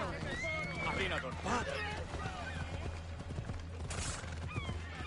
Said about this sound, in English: I get how the horse has to slow down for towns